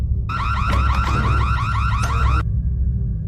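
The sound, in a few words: loud alarm going off in film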